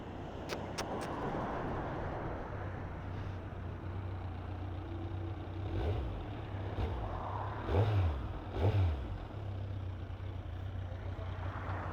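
Kawasaki Z1000 superbike engine idling steadily with a low rumble, rising in a few brief throttle blips near the middle, heard close up on an outdoor ride.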